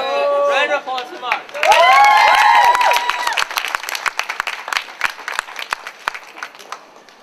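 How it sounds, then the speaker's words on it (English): A live audience at a Lord of the Rings musical comedy performance breaks into loud applause and cheering, with whoops and shouts over dense clapping that stays steady, then thins into scattered claps as a performer begins talking. "Round of applause for"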